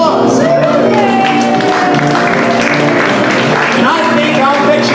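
Concert audience at the Leonard Peltier benefit concert bursts into loud clapping, cheers and whoops, layered over lingering musical tones and voices, close and full for the entire span.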